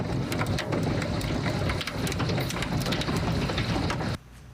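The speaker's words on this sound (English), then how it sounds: "As you just saw and heard there, hail hitting parts of the capital city." Hail pelts down during a severe storm in Nebraska's capital city, a dense, loud rattle of many impacts with some sharp cracks among them, then it drops off abruptly near the end.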